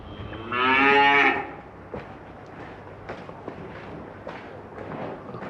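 A cow lets out one loud, drawn-out moo close by on a farm, followed by scattered knocks, shuffling and fainter livestock sounds in the background.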